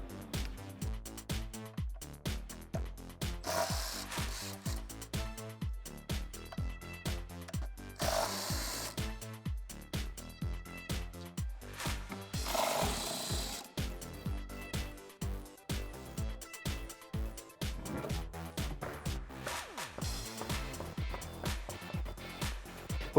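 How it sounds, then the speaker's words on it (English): A power tool rattles in rapid repeated bursts while lug nuts come off a Jeep Wrangler JL's spare tire on its rear carrier, a busy mechanical chatter running throughout at moderate loudness. "Just remove the 3 lug nuts and take the tire off the carrier."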